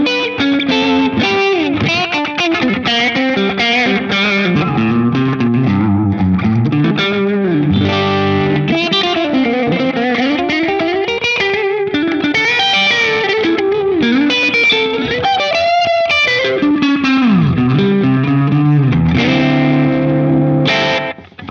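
Electric guitar through a light overdrive pedal plays a continuous country-style run of bending, sliding notes, slightly gritty and loud throughout with no talking.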